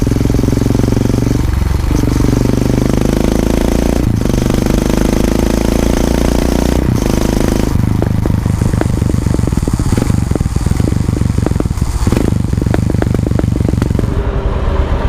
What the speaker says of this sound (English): The popping from the exhaust is more compared to stock exhaust, and I like the pops.